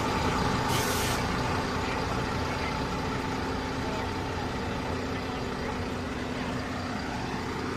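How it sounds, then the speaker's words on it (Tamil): A brand-new Volvo multi-axle SETC bus runs its rear engine at a steady, smooth idle, with a brief airy hiss near the start. "ஒரு வாட்டி ஆன் பண்ண சொல்லி அந்த engine sound கேட்டுருவோமா? Rear engine sound எப்போவுமே அது ஒரு தனி ஹைலைட்டு வோல்வோவில்."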